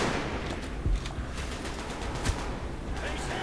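Gunfire in Call of Duty: Black Ops crackles as dense, continuous automatic shooting at moderate distance, with a couple of sharper, heavier shots standing out. No one talks over it.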